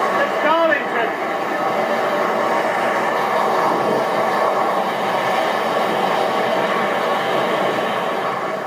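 LNER 60163 Tornado, a Peppercorn Pacific steam locomotive, races at 100 mph, heard as a continuous loud roar of running train and wheels on the track, with a short squeal near the start.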